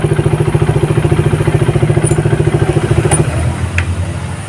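Suzuki Satria FU motorcycle engine fitted with a DSK Neo Max CDI, revving hard in a fast steady pulsing rhythm, then dropping back to a lower, rougher idle near the end, loud and close with no talk.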